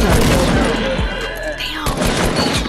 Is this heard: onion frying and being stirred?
no